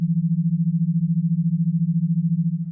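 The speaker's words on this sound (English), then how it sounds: "binaural beats, which sound kinda like this" A steady low hum with a gentle, regular pulsing wobble, continuous and unchanging throughout.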